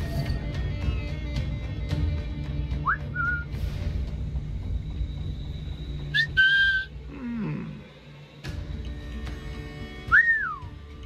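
Whistling in the video game Assassin's Creed IV: Black Flag, heard as a few short rising two-note whistles over a steady ambient game background, with a final louder whistle near the end.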